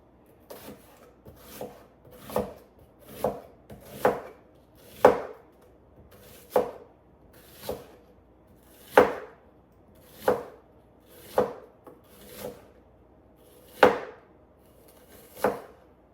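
A knife chopping through an onion on a cutting board, with steady, distinct thuds every second or so, close and clear with no talking.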